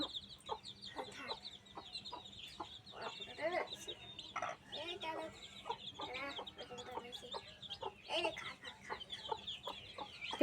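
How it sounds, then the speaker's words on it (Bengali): Chickens cluck busily while being fed, with many short, overlapping clucks and squawks close by in an uneven rhythm and occasional soft voices in the background. "তোমার মুরগির খেতে দেবো"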